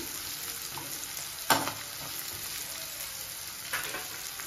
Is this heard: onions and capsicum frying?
yes